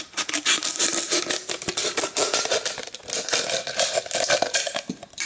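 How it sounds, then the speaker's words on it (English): Close scraping and rasping of a blade cutting through a plastic bottle to remove its top, a dense run of short scratchy strokes at steady volume with no talking. "We're just gonna cut the top out."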